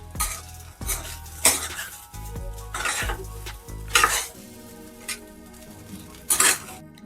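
Coconut rice gets stirred and mixed in a metal cooking pan, a spoon scraping and clinking against the sides in repeated strokes with soft sizzling between them.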